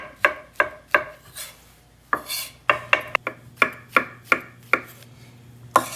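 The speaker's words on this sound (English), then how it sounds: "I quite often cut off the bottom of the stem on the mushrooms as well" A knife chops through the bottoms of mushroom stems on a board, a dozen crisp, evenly spaced cuts landing close and fairly loud with a faint hum behind them.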